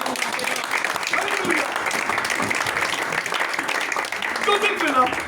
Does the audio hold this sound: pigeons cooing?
no